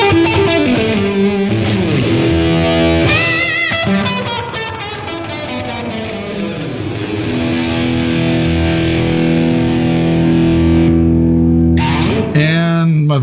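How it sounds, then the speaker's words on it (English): Overdriven electric guitar played through a Line 6 HX Stomp with an Azor overdrive, loud sustained distorted chords and ringing notes filling the whole stretch, with a brief strummed flourish near the end. "add more distortion, I have this Azor overdrive that I can do"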